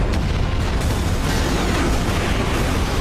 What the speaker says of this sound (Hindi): रॉबर्ट बटन दबाकर जोरदार धमाका कर देता है